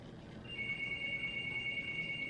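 A telephone rings indoors with a steady, high electronic tone that starts about half a second in and continues faintly under a low background hiss, with no talking.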